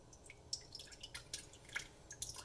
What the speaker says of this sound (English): Alright, let's get this pour.